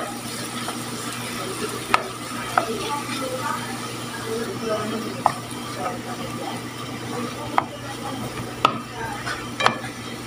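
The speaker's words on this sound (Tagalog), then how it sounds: "lalagyan natin yung ating mashed sweet potato. Haluin lang natin siya." Butter and mashed sweet potato are stirred in a pan for buchi filling, a soft continuous scraping and stirring with a few sharper utensil clicks against the pan, over a steady low background hum.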